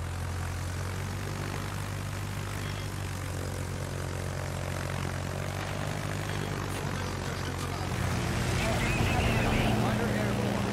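Propeller fighter aircraft engines drone steadily in a World of Warships carrier battle, a continuous mid-loud hum with low harmonic tones, swelling slightly near the end.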